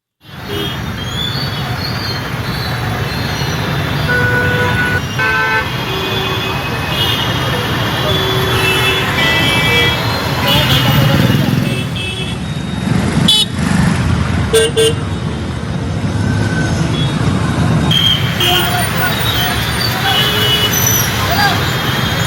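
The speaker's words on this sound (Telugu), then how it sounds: "మైండ్ స్పేస్ నుంచి ఐక్య మార్గంలో వాహనాలు మెల్లగా కదులుతున్నాయి" Heavy rain-hit traffic jam on the Mindspace IT corridor road in Hyderabad: a constant loud roar of idling and creeping vehicles with repeated car and bus horns honking nearby.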